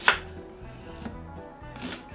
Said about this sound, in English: cut our onion up into little ribbons, little strips